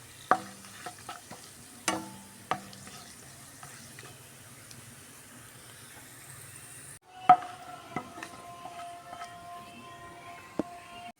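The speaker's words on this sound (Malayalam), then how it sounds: "ഗ്യാസിലൊരു കടായി വെച്ച് അതിലേക്ക് നെയ്യ് ഒഴിച്ച് ബദാം പരിപ്പൊക്കെ ഒന്ന് വറുത്തിട്ട് കോരി വരാം" Almonds frying in ghee in a kadai on a gas stove: a quiet, low sizzle broken by scattered scrapes and clicks of stirring, with no talking.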